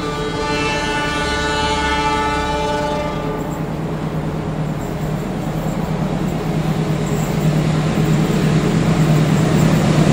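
A train hauled by three locomotives in Java sounds a loud sustained horn for about three seconds, then its heavy engine rumble and rolling roar continue and swell close by, with no talk.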